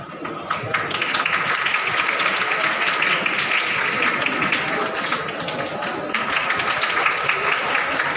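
Thick, continuous clapping from an audience honoring Urdu-medium SSLC toppers at a felicitation ceremony, rising quickly after a brief start and holding steady and loud for several seconds, with faint crowd voices mixed in.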